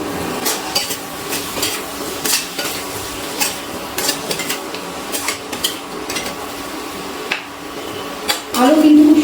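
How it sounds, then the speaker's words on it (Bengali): A spatula scrapes and knocks through fried potatoes coated in Kashmiri chilli powder and turmeric in a pan, giving repeated close clattering strokes over a light background sizzle. "আমি ভালো করে একটু নাড়াচাড়া করে নিচ্ছি"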